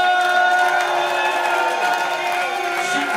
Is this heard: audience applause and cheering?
yes